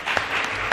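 A short, steady burst of applause from a small audience at a school radio show, loud and close with no voices over it.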